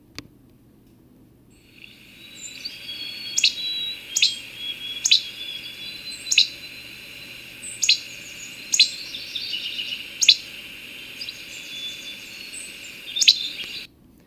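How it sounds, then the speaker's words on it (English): Least flycatcher song played back from a recording, a series of about eight sharp, quick chirps spaced a second or so apart over a faint steady background hiss. "The least flycatcher has a really boring, very quick song"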